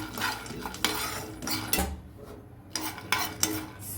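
Roasted peanuts are fried briefly with salt and spices in a pan, heard as repeated close metal scraping and clinking of a spoon stirring against the pan, with a faint sizzle underneath.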